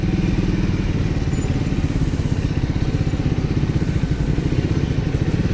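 A Triumph Speed 400 motorcycle engine drones steadily and loudly while riding through city traffic, a dense, even pulsing rumble with no pauses.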